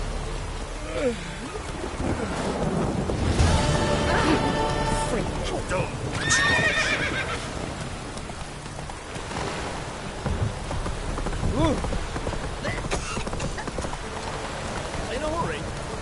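Roach the horse from The Witcher video game whinnies loudly and gallops with clip-clopping hooves through steady rain, with rumbles of thunder in the background and someone talking over parts of it.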